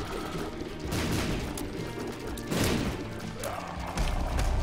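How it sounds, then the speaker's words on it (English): Explosions going off in The Binding of Isaac: Afterbirth, a rapid, loud burst of blasts and thuds in the first half-second, with further booming hits around two and a half and four seconds over busy game audio. "the explosivo explosions are what's helping"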